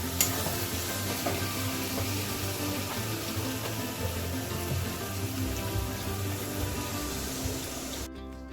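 Masala frying for an egg curry hisses and sizzles steadily in a pan as water goes in, a loud continuous wash of bubbling with a sharp splash near the start, no talk.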